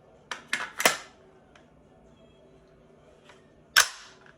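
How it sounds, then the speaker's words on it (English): An AR-pattern rifle with a 3.5 inch micro buffer tube and an ATI 60 round magazine has its charging handle racked to chamber a round, giving three quick sharp metallic clacks close up, a pause, then one louder snap. "like me racking it back, it reliably cycles"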